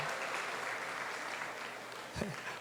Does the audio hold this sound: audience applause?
yes